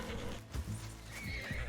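A horse in the Red Dead Redemption 2 game whinnies and neighs close by over about two seconds, with a steady low rumble and hoof clops running underneath.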